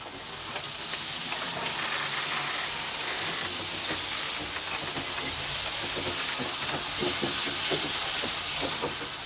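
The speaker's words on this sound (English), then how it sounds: "the old steam-driven variety are being pushed back into service" An old steam-driven locomotive in South Africa, pressed back into service, lets out a loud continuous hiss of steam, steady for several seconds with faint rail clatter beneath it.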